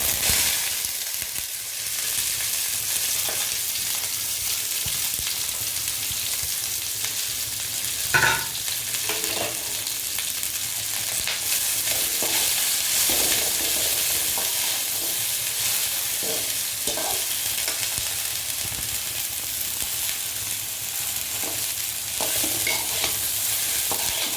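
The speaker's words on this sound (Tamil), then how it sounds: "அறுத்து வச்ச வெண்டைக்காயோட நம்ம கருவேப்பிலை போட்டிருக்கேன், அப்படியே போட்டுக்கலாம்." Cut okra and curry leaves fry in a pan with mustard seeds, giving a steady, loud sizzle with stirring scrapes throughout and no talking.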